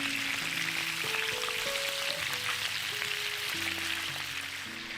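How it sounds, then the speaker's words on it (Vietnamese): Chicken pieces fry in a pan over medium-high heat, a steady, even sizzle and crackle held close for the whole stretch, with no one talking over it. "Tiếp tục mình sẽ chiên ở mặt dưới."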